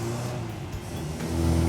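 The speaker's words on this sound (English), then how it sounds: "That little car runs along nice." Vintage Mini car on a road test, its small engine humming steadily from inside the cabin with a slight swell in loudness toward the end.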